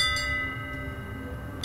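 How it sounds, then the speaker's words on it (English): A ship's bell in the pirate video game Sea of Thieves rings with a steady, sustained metallic tone that hangs over the scene, fading slightly across the short clip with low rumbling game ambience underneath. "Is it ringing the bell?"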